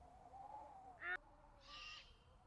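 A snowy owl in the Alaskan tundra calls with short, faint hoots separated by pauses over a quiet, still background.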